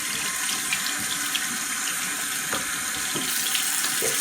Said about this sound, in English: Get the water started.